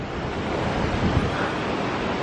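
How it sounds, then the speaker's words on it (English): Steady roaring rush of a waterfall in Yosemite National Park, loud and constant like heavy surf, with a windy hiss over it. "There's the waterfall."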